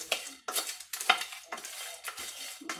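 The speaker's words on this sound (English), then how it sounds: "I'll set that aside for a minute and stir this up" A spoon stirs a mixture in a pot, scraping rhythmically about twice per second, with close, clear strokes and clinks of metal.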